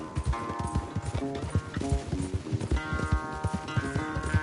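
In Red Dead Redemption 2, a horse gallops with rapid, rhythmic hoofbeats throughout, close and clear over a steady musical backdrop.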